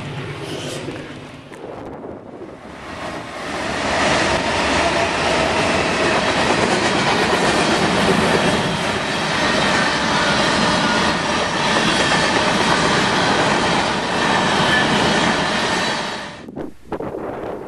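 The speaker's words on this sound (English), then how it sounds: "Westbound stack train with DPUs is on its way" A long BNSF westbound double-stack freight train with distributed power units rumbles past nearby on Curtis Hill, loud steady roar of wagons and rail clatter with wind buffeting the microphone, fading at the end.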